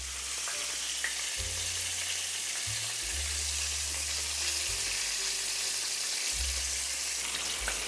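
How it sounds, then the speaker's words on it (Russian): Sea fish cutlets fry in a pan with a constant close crackling sizzle, while a low droning hum shifts in pitch underneath and no one speaks. "У меня здесь рыба морская, поэтому мне достаточно просто котлеты обжарить."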